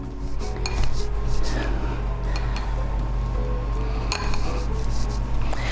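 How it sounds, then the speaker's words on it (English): A pastry blender chops cold butter into a coarse streusel topping in a bowl, giving soft repeated clinks and scraping taps at close range over a low background hum. "I'm going to take my pastry blender and just chop it up till it's nice and coarse, all mixed in"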